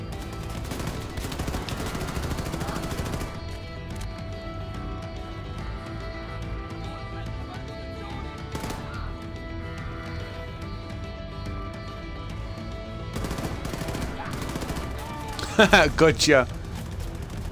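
Bursts of gunfire ring out in the Xbox One X shooter Wolfenstein II: The New Colossus, set against a steady game soundtrack, with someone talking over the action.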